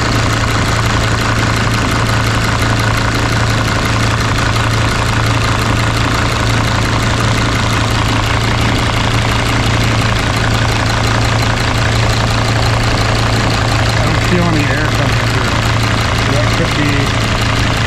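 2006 Sprinter T1N diesel engine idling after a new cylinder head install, a loud, steady rumbling idle with a faint light tick, close up, while someone talks briefly over it.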